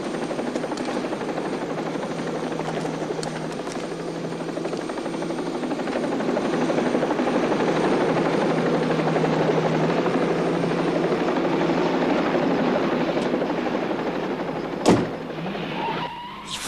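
A helicopter drones steadily in a police crime series, its rotor roar swelling slightly and holding close and loud, ending with a sharp, brief clatter.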